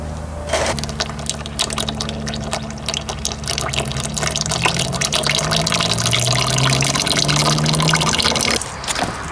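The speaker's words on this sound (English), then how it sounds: "Water trickle." Water trickles and splashes steadily for several seconds, a continuous close liquid flow with faint background hum and a few small clinks.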